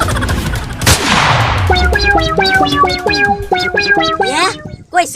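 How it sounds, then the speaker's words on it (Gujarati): A single gunshot sound effect in a comedy sketch: one loud, sharp blast near the start that decays quickly, followed by a bouncy musical sting. "પાછી ગોળી વાગી."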